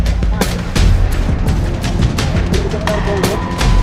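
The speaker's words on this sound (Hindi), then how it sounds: "ये देखो भाई फायरिंग" Gunfire from the hills during a violent clash cracks out in repeated sharp bursts over a loud, rumbling background, with voices talking throughout.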